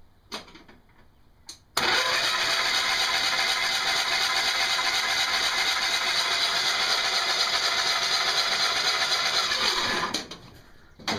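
An Allison engine with its spark plugs removed cranks on the starter for about eight seconds, a loud, even, whirring spin that never fires, then cuts off abruptly.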